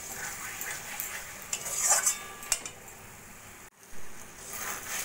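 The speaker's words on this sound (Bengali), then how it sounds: "এইভাবে নাড়া দিয়ে দিয়ে লো ফ্লেমে প্রায় 5-7 মিনিট মতো আমি রান্না করে নিয়েছি।" Kachur loti (taro stolon) curry stirred in a pan over a low flame, a soft sizzle with a few spoon scrapes and clinks, quiet and close, no voices.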